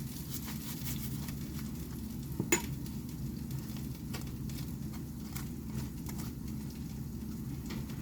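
Pork chops go into wells in a pan of roasting potatoes: a quiet, continuous sizzle and light stirring scrape, with one sharp clunk midway as a chop lands in the hot pan.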